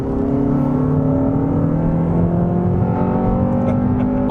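A Honda Civic Type R FN2 accelerates hard, its engine note held loud and close as a steady, rising harmonic drone with no voices over it.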